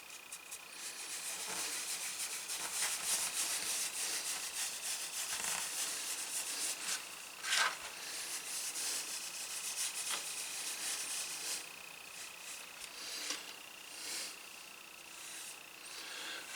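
Leather getting a first coat of Resolene finish rubbed on by hand, a steady close, soft scrubbing rasp running continuously with small bumps and pauses, no voices.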